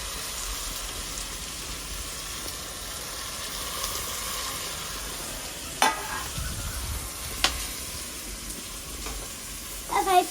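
Tomatoes frying in a pan, a steady soft sizzle with a few sharp clinks of a spoon stirring against the pan near the end.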